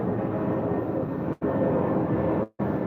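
An airplane roars overhead, a loud steady broadband rumble mistaken for a motorcycle, holding continuously apart from two brief near-silent breaks.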